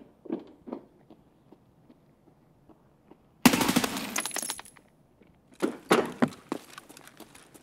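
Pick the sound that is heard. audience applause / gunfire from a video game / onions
gunfire from a video game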